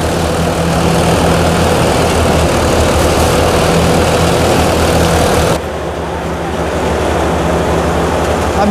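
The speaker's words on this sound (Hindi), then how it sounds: "जो वीडियो में आप देख पा रही हैं तिरसठ एच का ट्रैक्टर है जॉन डियर कंपनी का" A John Deere 63 hp tractor drives a Punjab-made multi-crop combine harvester that makes straw, giving a loud, steady heavy engine drone with a constant machinery hum and a brief dip in level partway through.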